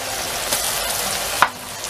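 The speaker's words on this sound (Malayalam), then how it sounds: "അപ്പോൾ നമുക്ക് സവാള ഫ്രൈ ചെയ്തെടുക്കാം" Onions frying in hot oil for chicken biryani: a close, steady crackling sizzle with a brief sharper stir or clatter partway through.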